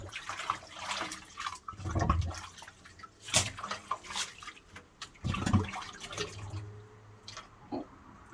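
Running water splashes and drips onto a dog during a bath, irregular close gurgles and trickles coming in bursts with quieter gaps.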